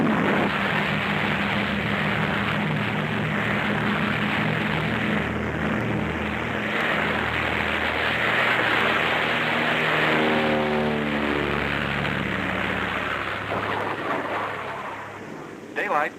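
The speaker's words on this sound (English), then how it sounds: "They must risk a takeoff in darkness before the terror of the storm strikes." Propeller planes take off in darkness from the aircraft carrier Philippine Sea in Antarctica as a storm approaches, a loud, continuous engine roar with pulsing propeller drone that stays close and heavy throughout.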